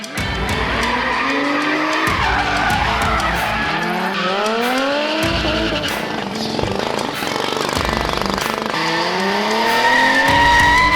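A car skids around a gymkhana course at Killarney Racetrack, loud tires squealing in repeated rising and falling bursts over a revving engine, up close and continuous.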